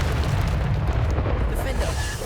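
Bombarda spell exploding in the game Hogwarts Legacy, a dense, loud, rumbling blast with deep low-end boom that holds steadily for about two seconds before trailing slightly, with voices mixed in.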